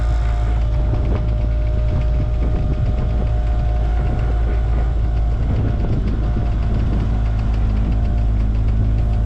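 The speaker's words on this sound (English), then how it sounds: "the sound of the little outdrive trying to push through the wind" A small boat's outdrive engine runs continuously at a steady, loud drone, pushing against the wind, with a low throbbing hum and wind noise throughout.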